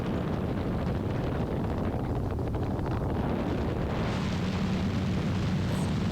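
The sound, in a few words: gyrocopter engine running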